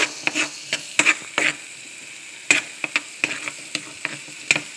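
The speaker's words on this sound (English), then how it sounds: "So I'm going to stir it around." Chicken and crushed red pepper frying in a pan as a utensil stirs them, bright irregular scraping clicks and taps over a soft, continuous sizzle, close and fairly loud.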